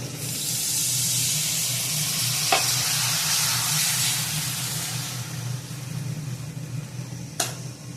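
Oil sizzling steadily in a pan as potatoes fry, a constant hiss with a couple of brief sharp crackles, no talking.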